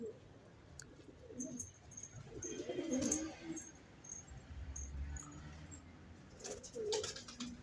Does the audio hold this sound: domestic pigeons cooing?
yes